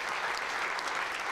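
An indoor audience claps steadily in dense, even applause, moderately loud and sustained without pauses.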